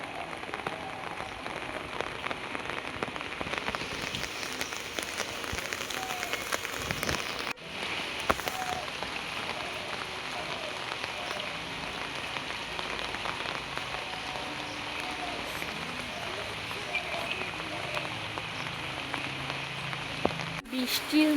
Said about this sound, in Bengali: বৃষ্টির মধ্যে বেরিয়েছি ছাতা মাথায়, ছাতা নিয়ে।